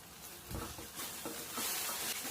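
Fried brinjal being stirred in a pan gives a faint, soft sizzle with a few quiet scraping strokes, low and close.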